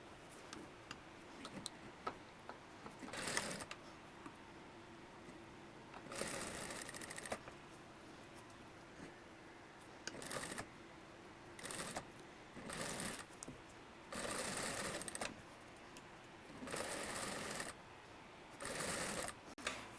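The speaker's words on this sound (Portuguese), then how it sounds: "agora a gente pode costurar" A domestic sewing machine stitches a seam on a long vest, running in short bursts of rapid mechanical ticking separated by quiet pauses, close and clear with no talking.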